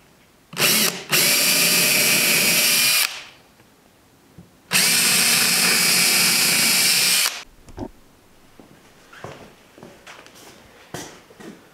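A power drill pre-drills wood pieces for a DIY composting toilet in two loud, close runs of about two and a half seconds each, followed by the light clatter of handling the wood.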